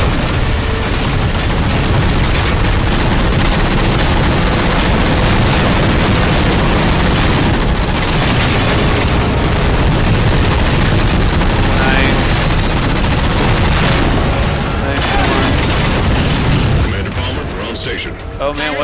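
Sustained heavy gunfire and explosions in the Halo 4 Spartan Ops shooter, loud and dense throughout with continuous automatic fire and booming blasts in a firefight.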